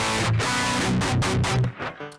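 Harsh, buzzy electric guitar chords through an amp simulator plugin alone strum in quick, choppy bursts, thin and fizzy without any room sound, then cut off abruptly.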